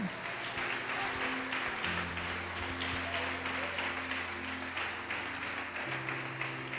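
Sustained applause from a church congregation, steady and dense throughout, with a low musical drone or organ tones sounding underneath.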